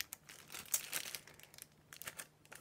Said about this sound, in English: Let me take off the wrappers.